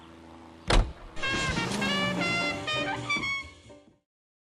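A car in the video game L.A. Noire starts up, with a sharp thump followed by a steady engine hum and a rising, whining motor sound for a few seconds before it fades out, with no talk.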